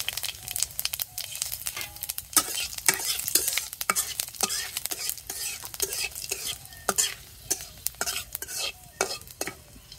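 Cumin seeds tempering in hot oil crackle and sizzle steadily, with frequent sharp pops and stirring scrapes up close throughout, no voices.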